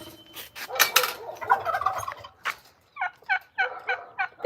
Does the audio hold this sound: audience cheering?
no